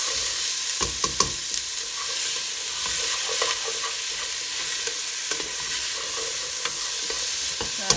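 Onions frying in a pan on medium heat, stirred with a utensil: steady sizzling hiss with scattered scraping clicks and knocks against the pan, close and alone.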